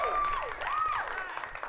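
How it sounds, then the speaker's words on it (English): An audience applauding, with a steady wash of clapping under loud, rising and falling whistles or whoops, close and sustained throughout. "Round of applause to you guys"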